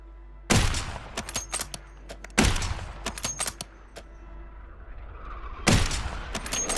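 Call of Duty gunfire: three sharp, loud bursts of shots spaced a few seconds apart, each trailed by scattered crackling reports and echoing tails.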